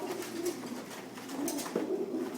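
Several pigeons packed into a shipping box coo softly and continuously, a low murmuring warble with overlapping calls, close but faint and without talk.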